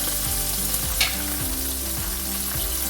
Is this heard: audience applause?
no